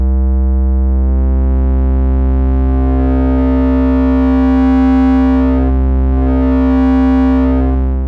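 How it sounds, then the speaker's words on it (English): Two sine tones two octaves apart grow progressively harsher and buzzier as distortion is added, sustained and loud, the added grit swelling and dipping over the held tones. "I will add the distortion progressively."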